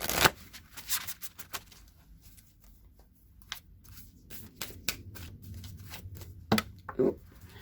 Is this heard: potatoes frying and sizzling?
no